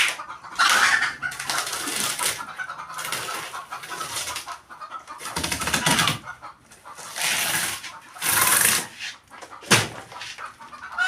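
Chickens clucking in bursts close by, with intermittent squawks and a brief flutter, separated by quieter gaps.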